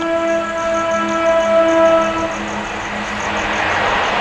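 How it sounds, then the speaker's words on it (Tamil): A train passes close by outdoors, opening with a sustained horn tone that gives way to a loud, broad rushing rumble of wagons continuing to the end. "ட்ரெயின் சத்தம் தான்டா"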